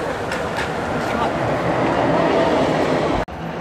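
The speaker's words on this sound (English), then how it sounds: "Here comes the monorail." A monorail at an arts festival rumbles past nearby, a loud continuous rolling roar with rattling texture across the whole clip, ending in a sudden brief cut.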